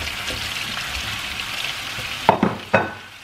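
Potatoes go into a hot pan with pork rib and sausage and fry in a loud, steady sizzle, followed by a couple of sharp stirring clatters near the end.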